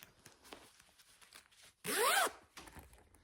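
A zipper on a lined, sewn bag gives one quick, sharp pull lasting about half a second, with faint handling rustles before and after.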